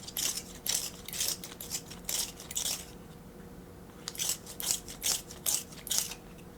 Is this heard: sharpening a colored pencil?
yes